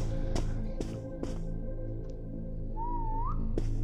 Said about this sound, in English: I think we could just whistle to find each other.